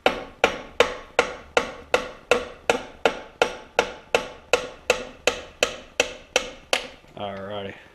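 Hammer taps on a Peerless 820 transmission part during a teardown, about fifteen sharp, evenly spaced metallic strikes roughly every half second, close and loud, ending in a brief ringing hum.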